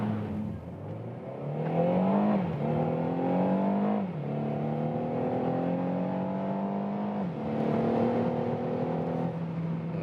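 A Renault Megane GT accelerates hard from 0 to 100 km/h, its engine note climbing steadily through several gear changes with brief dips between shifts, heard from inside the car with no talk.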